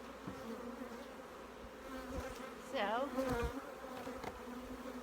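Honey bees at an apiary drone in a dense, continuous buzz close by, with individual bees swelling louder as they pass, and a single brief spoken word.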